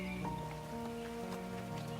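Quiet, steady rain falling as a sound effect in a horror story, a soft continuous patter beneath a low sustained musical drone, with no voices.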